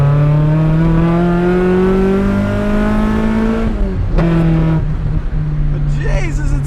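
A Toyota TE72 liftback with a swapped-in 4AGE engine and a pronounced intake leak, revving loud and close at a steady high pitch before the revs drop briefly and pick up again.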